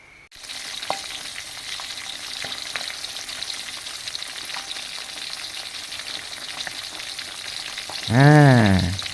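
Climbing perch coated in turmeric and salt frying in hot oil, a steady close sizzle running throughout, with a brief louder bubbling hiss near the end.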